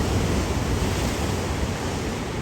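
Ocean surf roars steadily on the Oregon coast near a bridge, a loud, continuous wash of breaking waves with wind noise buffeting the microphone throughout.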